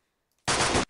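A single loud burst of machine-gun fire from the Campaign Series: West Front wargame, a sharp, continuous rattle lasting under half a second after near silence, with no talk.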